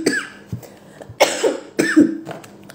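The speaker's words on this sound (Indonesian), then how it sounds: "sorry, aku masih batuk." A person coughs several times in short, hoarse bursts, close to the microphone, with brief pauses between them.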